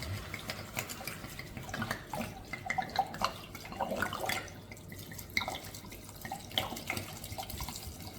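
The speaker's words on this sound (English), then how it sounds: "So we're going to add a whole bottle of wine." Whole bottle of red wine poured into a pot of beef bourguignon stew, a continuous glugging, splashing liquid pour at a quiet, close level with no talk.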